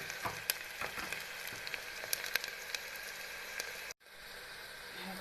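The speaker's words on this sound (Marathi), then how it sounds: "आता कांदा टाकला जरा हलवून घेते याला मस्त आहे आता हलवून घेतलं छान फ्राय करून घेऊ ना" Onion frying in a pan and being stirred now and then, a steady soft sizzle with light scraping taps that cuts off abruptly near the end before faint hiss returns.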